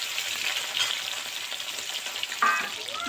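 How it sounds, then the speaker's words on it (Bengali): Rohu fish pieces frying in oil over a low flame give a steady, close sizzle with light bubbling crackle and a brief clink of a utensil near the end, with no voices. "এবার হালকা জাল দিয়ে মাছগুলো ভালো করে ভেজে নেব"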